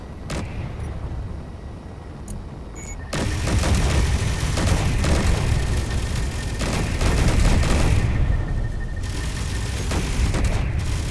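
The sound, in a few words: green enemy shooting lasers in video game Space Engineers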